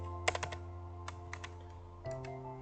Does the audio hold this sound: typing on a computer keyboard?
yes